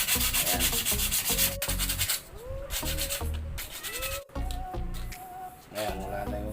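A spider cage is sanded to smooth away roughness, with rapid back-and-forth rasping strokes that rise and fall in loudness, close up, with short breaks between passes.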